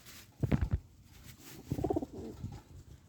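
Two short bursts of throaty pigeon cooing, close and fairly quiet, separated by a brief pause.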